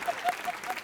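A studio audience on a Bollywood TV talk show breaks into a short burst of applause, a brief wash of clapping from the crowd.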